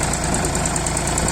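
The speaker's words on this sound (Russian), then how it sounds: "Трактор работает замечательно, полностью готов к работе." An ISEKI TU217 four-wheel-drive tractor's engine running steadily close by, a loud continuous rumble with an even knocking pulse and no breaks.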